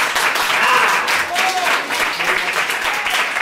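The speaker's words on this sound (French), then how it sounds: "Si vous pensez qu'il est coupable, applaudissez maintenant." A theatre audience at an improvised courtroom play claps loudly and continuously to vote guilty, a thick wash of applause with a few excited voices calling out over it.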